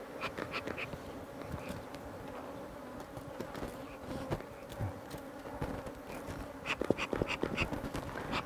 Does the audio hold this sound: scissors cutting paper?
no